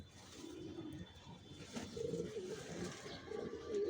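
Racing pigeons of Johnson and long-distance lines coo steadily inside a pigeon loft, several overlapping throaty calls rolling on close by through the whole stretch, with no one talking.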